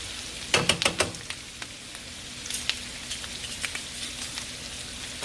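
Asparagus sautéing in a skillet gives off a soft, crackling sizzle with scattered pops, louder in a quick cluster near the start and then settling into lighter sporadic spitting.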